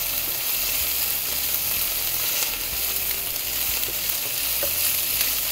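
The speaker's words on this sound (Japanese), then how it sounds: "ちょっとベーコンのね、油をね出すんですよ。" Bacon sizzling and frying steadily in a pan for carbonara, a dense continuous crackle with occasional pops, close and fairly loud, no talking.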